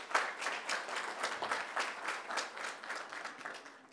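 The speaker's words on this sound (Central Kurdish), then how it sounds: "چەپڵەکە بۆ دیارەکەیە" An audience at a talk-show event applauds, steady rhythmic clapping heard faint and at a distance, fading slightly toward the end.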